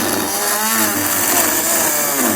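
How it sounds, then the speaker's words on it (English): A rotary tool fitted with a plastic cutting blade trims a car bumper on a 2020 Chrysler Pacifica. It gives off a continuous, harsh, high-pitched whine close by, with no talking. "I'm just going to use a rotary tool with a plastic cutting blade to trim this out."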